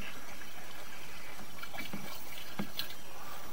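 Water drains down a 6-inch PVC sewer line underground, a steady faint hiss and trickle with occasional soft drips, heard alone.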